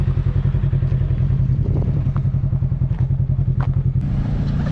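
A Yamaha RMAX side-by-side at three-quarter throttle off-road gives a loud, close engine drone with a fast pulsing beat that holds steady, plus a few clattering knocks.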